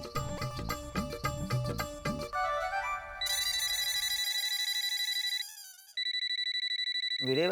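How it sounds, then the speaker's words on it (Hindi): A phone's electronic ringtone trills repeatedly for an incoming call late at night, loud and close, running in a melodic looping pattern with short gaps and no talking over it. "वीरे भाई का कॉल इतनी रात को?"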